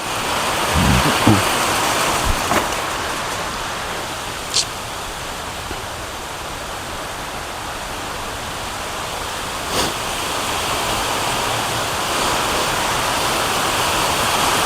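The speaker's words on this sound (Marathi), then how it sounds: "बारीक बारीक रिमझिम पाऊस चालू हा." Steady, soft hiss of light drizzling rain falls continuously at a cow shelter, with a few faint knocks and taps scattered through.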